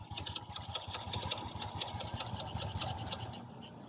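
Honda XRM 125 motorcycle engine idling after a hard kickstart, a steady close putter with regular pulsing beats and a faint high ticking throughout, running alone without talk.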